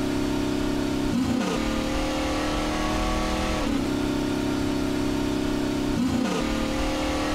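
A Chevrolet Impala in the game Workers & Resources drives with a rough, rattling engine, its drone climbing in pitch through gears with a dip at each shift, three times over, loud and constant.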